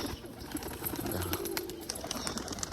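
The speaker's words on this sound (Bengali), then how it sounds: "তো যে পায়রাটাকে উড়িয়েছিলাম সেই পায়রাটাই যে নিচে চলে এসছে।" Pigeons in Rajshahi, Bangladesh coo low and soft over a busy wash of outdoor background noise, with a brief deeper coo standing out near the middle.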